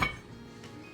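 A single metallic clank as a lid settles onto a pot of beef sinigang, followed by a faint low simmering hiss.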